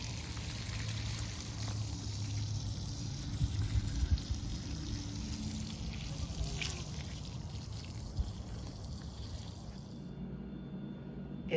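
Cold water poured and trickling over strawberry plants and hardening-off seedlings in a garden row, a steady close splashing wash that runs continuously before cutting off near the end.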